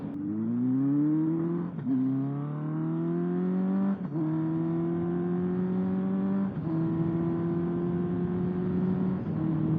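A 1977 Kawasaki KZ650 motorcycle engine pulls steadily while riding, its droning note rising through each gear and dipping briefly at three clutchless upshifts, loud and close with no talk.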